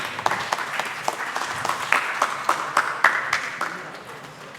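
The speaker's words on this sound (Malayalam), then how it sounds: "സാർ നല്ലൊരു കൈയടി കൊടുക്കാം" An audience at a nature photography club's annual day in a museum hall breaks into applause, a dense round of clapping with rhythmic sharp claps that slowly fades.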